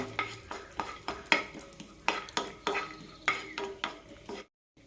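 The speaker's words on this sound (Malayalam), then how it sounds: "അര ടീസ്പൂൺ നെയ്യ് ഒഴിച്ചിട്ടുണ്ട് ഇതിലേക്ക് അണ്ടിപ്പരിപ്പ് കൂടി ഇടാം നല്ല ചുവക്കനെ വറുത്തെടുക്കാം" Cashews frying in half a teaspoon of ghee, with a soft sizzle under regular scraping strokes of a spoon stirring the pan. The strokes come roughly twice a second, close and moderately quiet, before a brief silence at the end.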